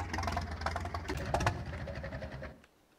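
Steady tractor engine in Farming Simulator 22, a dense rhythmic mechanical chugging with a clattering knock that runs loud and close, then cuts off abruptly near the end, leaving near silence, no voices over it.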